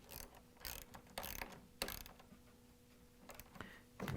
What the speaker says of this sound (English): Then we can use the 10mm socket with the ratchet and the extension to put the bolts back in.